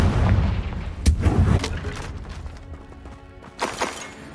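The Confringo spell in the Hogwarts Legacy video game lands as a heavy, booming blast, followed by a second sharp crack and a later rumbling impact, all loud and close.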